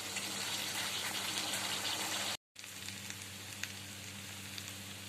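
Potatoes and plantains frying in oil in a pan, a faint continuous sizzle broken by one brief silent gap partway through.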